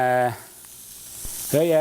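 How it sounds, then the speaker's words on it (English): A steady hiss of onions frying in a hot sauté pan runs under a voice that speaks briefly at the start and again at the end. "I'm going to add my onions to it. See, nice and frying."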